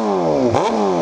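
A 600cc motorcycle engine running close up with a smooth, steady harmonic drone and no rattle, briefly dipping and rising in pitch as it is revved, with no talking.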